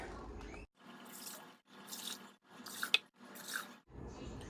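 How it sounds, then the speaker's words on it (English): Water poured over raw turkey pieces in bursts while preparing them for canning, several short splashing pours separated by brief pauses, close and fairly quiet. "we have to add 8 cups of water. So I'm gonna do that."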